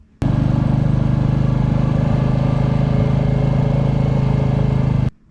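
A Royal Enfield Classic 350 motorcycle rides along a rural dirt road, its single-cylinder engine producing a close, steady, loud thumping burble that starts abruptly and cuts off after about five seconds.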